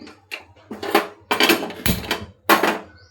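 Semolina roasting in ghee in a pan, stirred with a spoon: a series of sharp scraping and clinking strokes against the metal pan, irregular and close, with brief pauses between them and no voices.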